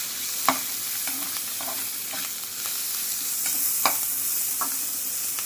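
Shallots, green chili and curry leaves sautéing with urad dal in hot oil, an even sizzle close up, broken by a few sharp scrapes and taps of a spatula stirring the pan.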